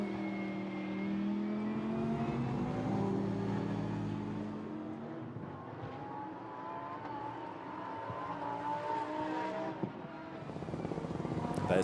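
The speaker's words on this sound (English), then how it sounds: "Down towards turn 10 comes the charging Spinelli then" A Lamborghini Huracán Super Trofeo race car charges toward a corner at the Barcelona circuit, its engine howling loud and near with shifting pitch as it passes, fading slightly mid-way before building again.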